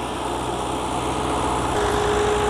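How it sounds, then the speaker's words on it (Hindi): A New Holland NH85 tractor engine runs steadily during laser levelling of a field, a loud continuous drone with a dense mechanical hum that holds even throughout, close by and with no talk over it. "फिर भी बहुत ज़्यादा जबरदस्त ट्रैक्टर चल रहा वा"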